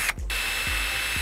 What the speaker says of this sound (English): To do that, we need to drill holes in these plastic feet.